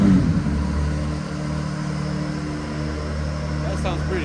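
A Honda NSX engine in an Indonesian garage collection revs with a steady low rumble, loud and close, and a voice is briefly heard at the very start.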